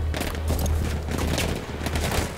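Sustained gunfire in the Battlefield 1 campaign mission Avanti Savoia, a dense fusillade of rapid shots and distant booms running continuously and fairly loud throughout, with no voices.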